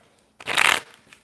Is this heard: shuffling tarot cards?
yes